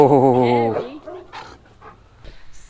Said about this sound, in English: Oh, look at this cute dog.